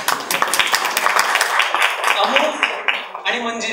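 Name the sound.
audience applause at a film music launch event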